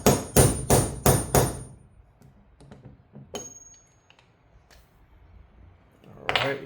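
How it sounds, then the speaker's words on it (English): Four loud metallic hammer blows in quick succession on sockets driving out a part of a Yamaha R7 motorcycle, followed by lighter clinks and taps of metal parts, then another sharp strike at the end. "we're gonna take some sockets and try to hammer this thing out."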